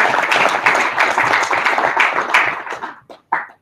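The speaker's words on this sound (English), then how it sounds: "let's clap for AfricInvest" An audience applauds at a bell-ringing ceremony admitting AfricInvest, a dense wash of clapping that holds steady and then thins to a few last claps before stopping.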